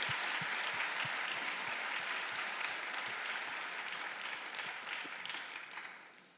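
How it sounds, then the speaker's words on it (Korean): A church congregation applauds during a Sunday afternoon service, a steady wash of many hands clapping at moderate distance that fades gradually toward the end. "박수 한번 쳐드리세요."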